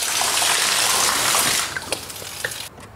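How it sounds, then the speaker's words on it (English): Water turned back on in a newly built car barn gushes loudly as a steady broadband rush, then thins out and cuts off into quieter, intermittent trickling and small knocks. "So now we turn the water back on."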